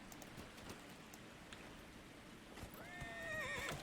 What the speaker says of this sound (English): let's call our horsey